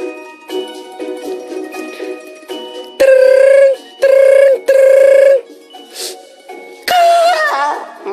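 A telephone rings in several loud, long electronic bursts with gaps between them, sounding over light background music.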